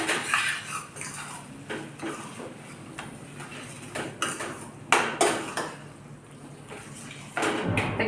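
Ridge gourd bharit being mixed with coriander in a pan, a spoon or spatula scraping and clinking against the metal in irregular strokes, close and moderately loud, with no talk.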